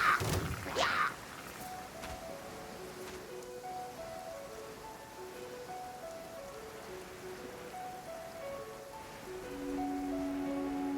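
Rain in the video game Genshin Impact patters steadily and softly, with a brief louder burst at the start, under gentle, sparse melodic notes.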